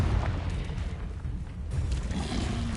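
A Confringo spell explosion in Hogwarts Legacy, a dense low rumbling blast that churns steadily for a few seconds, loud and close with no clear single impact.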